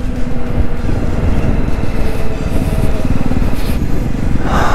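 A 2024 Jawa 350 motorcycle engine pulls hard under acceleration, a steady close throaty drone with rapid low pulsing and rising wind rush, continuous throughout with no talk.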